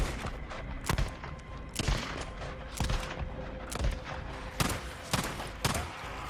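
Gunfire in the video game Days Gone, with loud single shots spaced about a second apart, each a sharp boom over a dense, noisy game soundscape.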